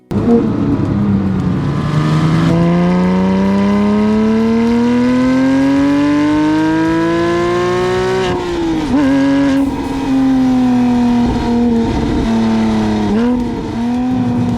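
A supercar engine revs loud and close, its pitch climbing steadily through a long pull, then dropping and surging again in a few shorter blips, with a rich, harmonic exhaust tone and no voices.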